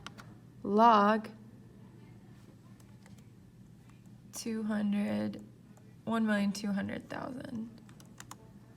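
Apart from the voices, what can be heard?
typing on a scientific calculator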